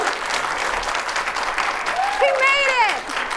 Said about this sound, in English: Jeff, they're clapping